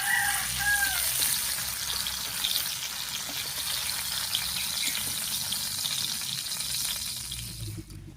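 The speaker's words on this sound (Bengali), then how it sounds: "পটল হালকা করে ভেজে নিয়েছি," Pointed gourd fries in mustard oil with a continuous close sizzle that holds steady for several seconds, then thins and fades near the end.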